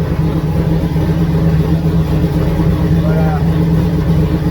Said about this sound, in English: So you see, it's not idling as high anymore